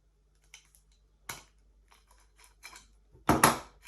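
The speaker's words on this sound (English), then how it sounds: "Just cut straight through the olive," A Monument 22mm olive cutter biting through a brass pipe olive in a plumbing job: a few faint clicks and snips, then one louder sharp crack as the olive cuts through.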